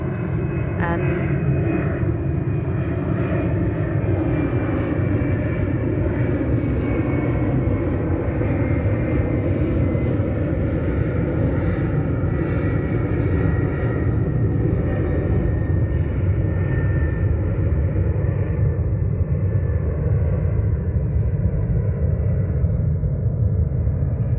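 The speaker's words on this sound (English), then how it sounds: "I'll just let this plane go over." Aircraft passing overhead close to an airport in an urban area, a loud, continuous low roar of jet engines that holds steady throughout, with faint birdsong chirping above it.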